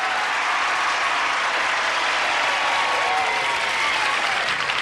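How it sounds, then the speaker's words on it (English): A studio audience at a game show special gives a brisk round of applause to greet the stars, with dense, sustained clapping at an even level throughout. "why don't we ask this audience here to join us with a brisk round of applause"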